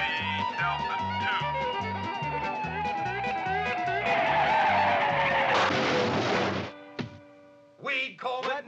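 A 1960 Pontiac Grand Prix skids in a police pursuit, with loud, sustained tire squeal over a rhythmic engine and soundtrack beat, sliding down in pitch before the noise cuts out into short bursts.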